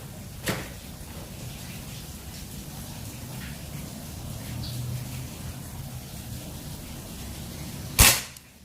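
A sharp, sudden snap of a mini bullpup air rifle shot firing cannon dome pellets at about 20 meters rings out near the end, with a fainter click early on against steady outdoor ambience.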